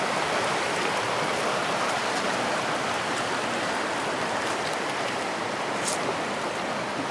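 Steady rushing water of the Conasauga River flowing past sheer rock walls at the water's edge, a constant broadband wash, close and unbroken throughout.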